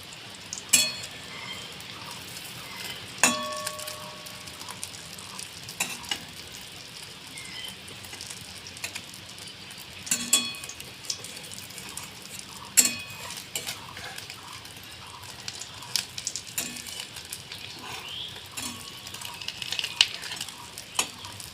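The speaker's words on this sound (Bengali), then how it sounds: "দেখুন বন্ধুরা আমি কিভাবে এই ডিমটাকে ভালোভাবে ভেজে নিই" An egg fries in a pan for an omelette curry, with a quiet, even sizzle that runs on and on, punctuated every few seconds by light clinks and scrapes of a spatula against the pan.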